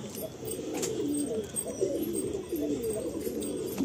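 A male breeder pigeon coos steadily at close range, its low throaty rolls running continuously through a quiet room with no talking.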